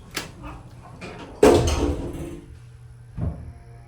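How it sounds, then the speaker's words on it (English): A Montgomery Vector hydraulic elevator door in a Macy's store slides shut with a dull thud, followed by a softer second knock a couple of seconds later over a low hum. "But this door's slammed."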